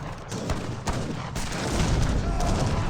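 Dense musket volleys and cannon fire from an Age of Empires 3 battle between sharpshooters, heavy cannon and culverins, a continuous rumbling fusillade with sharp shots at intervals, loud and steady with no talk.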